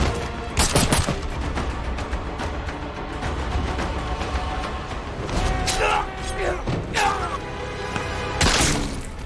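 Gunfire in a sniper film: sharp, loud shots ring out early, then further bursts and cracks come over a rumbling battle soundtrack, with what sounds like shouting voices in places.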